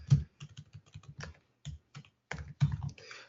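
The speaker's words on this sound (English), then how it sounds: "I'll type my email address up here" An email address typed on a computer keyboard: a quiet, close run of uneven key clicks with short pauses and a few firmer taps, with no talking.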